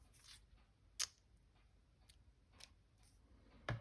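Scissors snip through a vintage paper receipt stub, giving two sharp, crisp cuts a few seconds apart against a quiet room.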